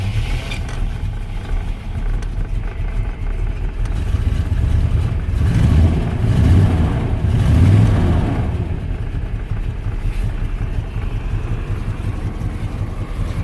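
A loud, rough engine on a cold 1982 GMC Jimmy 4x4 running on headers with no exhaust idles and rumbles nearby, swelling briefly as it revs before dropping back to a steady throb.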